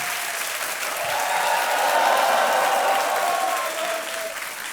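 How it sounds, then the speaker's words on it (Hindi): Studio audience applause on an Indian television quiz show, a dense steady wash of clapping that swells in the middle and tapers slightly at the end, with no talk over it. "तालियां बजती ना इनके लिए।"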